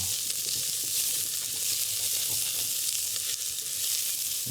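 Vegan meat for homemade chili sizzles loudly and steadily in an oiled pan while it is stirred, a continuous close hiss of frying with faint scraping underneath and no talking.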